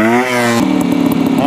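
A motorcycle engine hums during low-speed riding practice, its steady harmonic drone shifting pitch abruptly as the rider modulates the throttle and then continuing at a lower, rougher note, close and loud.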